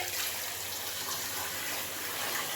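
Hot water runs from a pipe in a steady, broad rushing stream, close and constant for the whole stretch, with no talking over it.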